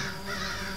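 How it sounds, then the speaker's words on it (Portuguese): A crow in the video game Die Young gives a short, close, harsh caw. "Ah, é um corvo. São 3 corvos."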